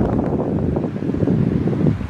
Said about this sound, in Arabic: كاين هذا الريح كيجي من الشاطئ الابيض